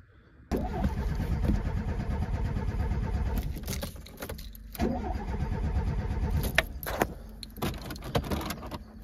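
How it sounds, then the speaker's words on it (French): Starter motor on a Renault Super 5 GT Turbo cranks steadily for several seconds with a rhythmic churning, pauses briefly, then cranks again without the engine catching; loud and close, no talking. "la GT démarre toujours pas"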